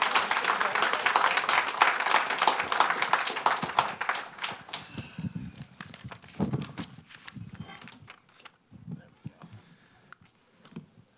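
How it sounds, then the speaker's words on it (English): A crowd claps loudly, the applause dense at first, then thinning into scattered claps as it fades out. "please join me in giving a thunderous round of applause"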